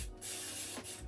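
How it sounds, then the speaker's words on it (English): A spray bottle mists water onto a section of natural hair in one close, short hissing burst with a brief gap, clear and alone. "I'll spray it with some water."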